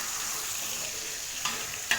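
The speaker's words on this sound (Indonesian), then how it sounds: "kita masukin udang cincang ya. Kita aduk sampai udang itu" Minced shrimp stir-fried over low heat for tekwan, a steady hissing sizzle with two brief sharp scrapes of the stirring utensil near the end.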